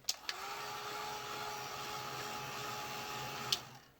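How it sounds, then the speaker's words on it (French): A heat gun blows a steady, even whoosh with a faint tonal hum while drying bleach on paper, bracketed by a few soft clicks. "de donner un petit coup de heat gun afin de fixer la javel"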